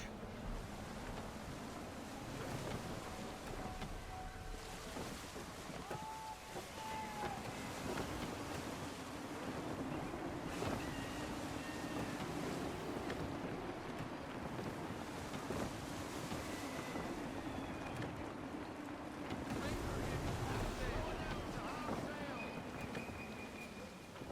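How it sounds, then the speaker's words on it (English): Gusty wind blows steadily across open sea in Assassin's Creed 3, a constant roar with surging waves and boat noise underneath, and faint game music and tones drifting through. "Wind looks to be shifting. Stay alert, Connor. Gusty winds can be difficult to manage."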